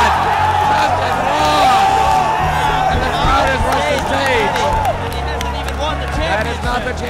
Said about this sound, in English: And the crowd is rushing to stage.